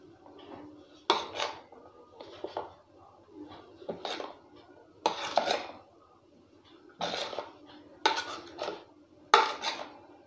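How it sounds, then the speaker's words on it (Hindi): A metal spoon mixes poha with salt in a bowl, giving bursts of clinking and scraping against the dish every second or so, close and fairly loud with quieter rustling between. "एक चम्मच की सहायता से उसको अच्छे से मिला देते हैं"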